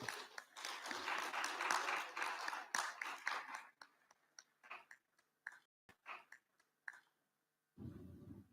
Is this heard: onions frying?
no